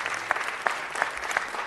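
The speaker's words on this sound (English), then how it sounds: "Let's give them a round of applause and thank them for the work that they do" Audience at a city council meeting clapping steadily, a dense patter of many hands at moderate distance with no voices over it.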